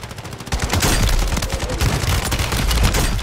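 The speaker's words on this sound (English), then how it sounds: "I got an LMG, man." Sustained light machine gun fire in a chaotic battle royale shooter, a rapid continuous rattle of loud close shots with heavy low booms, running throughout without any talking.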